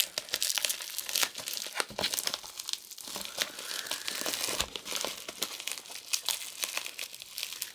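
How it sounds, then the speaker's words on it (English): A strip of Scotch tape pulled and handled up close, a continuous crinkly, crackling rasp with sharp tearing snaps throughout, no talking. "Scotch tape."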